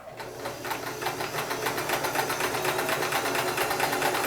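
An all-metal Sears Kenmore 158 series free arm sewing machine stitches a straight stitch at length 8, starting up and settling into a fast, steady, rhythmic clatter, close and loud, with no talk.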